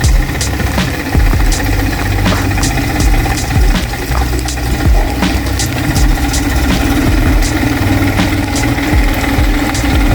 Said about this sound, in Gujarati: વિષ્ણુભાઈ ટ્રેક્ટર લઈને આવી રહ્યા